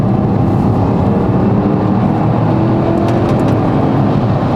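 A heavy 2.5-ton Porsche 4x4 SUV accelerates hard from a roundabout with kickdown, engine droning loud and steady from inside the cabin as revs climb without a break.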